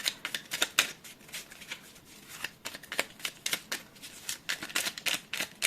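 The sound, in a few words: shuffling a deck of pick-a-card cards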